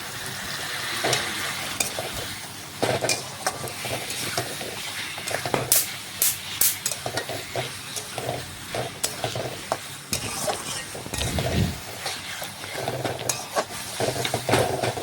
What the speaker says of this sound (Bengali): দেখুন এইভাবে নাড়াচাড়া করতে করতে চিকেনটা কষিয়ে নেব।